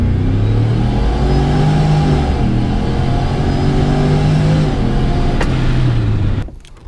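Car engine on ProCharger supercharger boost with a Carbinite pulley, revving hard and accelerating for about six seconds in a loud, steady roar with a rising whine, then cutting off abruptly near the end.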